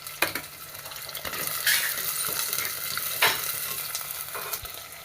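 Chopped small onions, about ten, and five to eight garlic cloves fry in a pan with a steady close sizzle, broken by a few sharper stirring scrapes and clinks of a utensil, with no voices.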